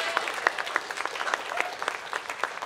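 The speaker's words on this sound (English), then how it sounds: "Let's give a round of applause for our four debaters." An audience applauds four debaters at the close of a formal debate, a lively round of clapping with distinct sharp claps standing out close by over the steady patter of the room.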